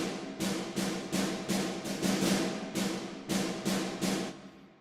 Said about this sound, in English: So this here is a multi-bounce roll